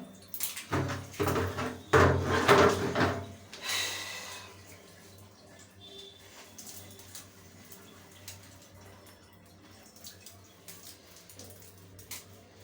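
Water splashes and pours loudly onto hair for a few seconds, then fades to soft trickling and drips with a low steady hum behind.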